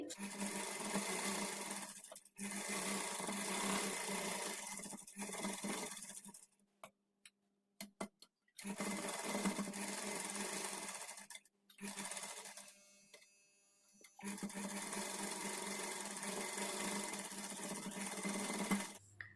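A sewing machine stitches a blouse sleeve in steady mechanical runs, with a few short pauses and ticking handling sounds between bursts.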